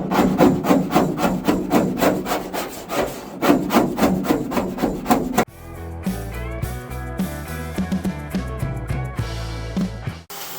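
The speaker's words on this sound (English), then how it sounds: "I've been going to town with this wire wheel on my hammer drill" A wire wheel on a hammer drill scours bare metal inside a 1952 Chevy, giving a rhythmic, pulsing grinding rasp that shifts midway into steadier, harsher scraping, loud and close with no talk.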